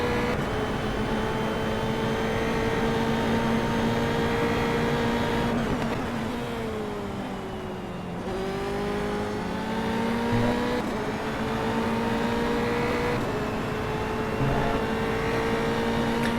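Formula 3 race cars screaming around Interlagos in a racing game, steady high-pitched engine whine with gear shifts and a dip in revs mid-way, several cars layered together, loud and continuous with no talk.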